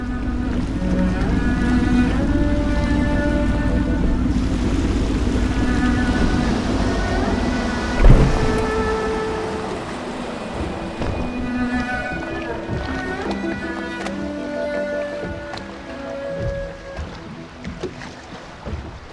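A low, constant boat motor hum with water movement in the video game Dishonored, accompanied by soft musical tones throughout, plus one brief thump midway.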